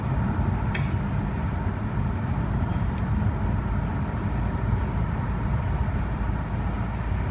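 An Audi S5 cruising along back roads toward a highway, a steady low rumble of engine and tire noise heard from inside the cabin, constant and unbroken throughout.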